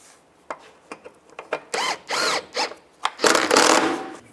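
Bolts on a 2005-10 Volkswagen Jetta radiator are tightened with a power tool, giving short, close, whirring bursts that build to a longer run near the end, with small clicks and handling knocks between them.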